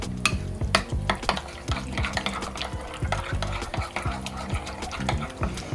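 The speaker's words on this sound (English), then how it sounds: "Need some black pepper. We're gonna give this a mix." A spoon stirs and scrapes through a seasoning mix of garlic powder and black pepper in a bowl, a rub for smoked beef chuck, giving quick rhythmic clinks and scrapes at close range.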